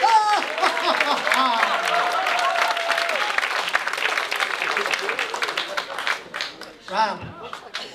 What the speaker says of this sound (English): How about a nice, warm, laughing applause for Rob Levesque?